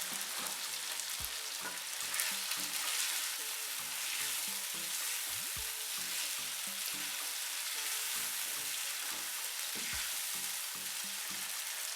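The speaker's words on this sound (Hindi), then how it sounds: "आलूओं को मसाले के साथ अच्छे तरीके से भून लेंगे। साथ ही इसमें शामिल करेंगे मटर।" Potatoes and green peas fry with spices in a pan for an aloo matar pulao, a steady dense sizzle with repeated soft stirring knocks throughout, close and alone.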